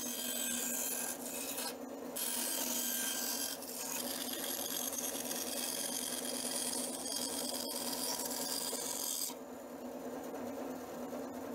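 Wooden hand plane bodies are hand-sanded after shaping on a bandsaw, giving steady close rasping strokes that run continuously with brief pauses, without talking.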